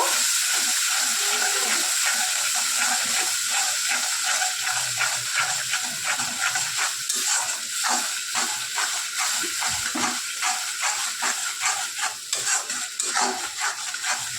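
Spice paste with black cumin fries in hot oil, a loud, continuous sizzle and crackle close by, with repeated stirring scrapes growing more rhythmic toward the end.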